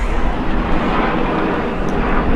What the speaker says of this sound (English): are helicopters that have been flying over constantly